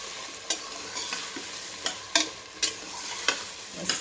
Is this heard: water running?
no